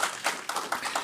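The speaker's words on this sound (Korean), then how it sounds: "박수하겠습니다." A church congregation claps during a Korean worship service. About five brisk, evenly spaced claps are heard at moderate distance, with no talk.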